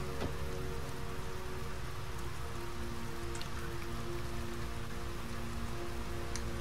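Heavy rain falls steadily in the video game Heavy Rain, a dense even hiss with scattered drip taps and a faint low rumble, with no voices.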